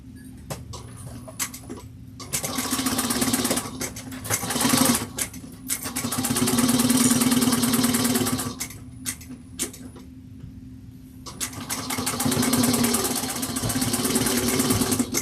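A sewing machine back stitches fabric while sewing a bowler bag, running in several bursts of rapid mechanical ticking separated by short pauses, close and steady.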